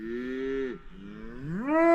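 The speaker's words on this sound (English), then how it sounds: "They started walking through mooing" Cattle grazing around a mountain campsite near Crested Butte give two close, loud, drawn-out moos one after another, with a short pause between them.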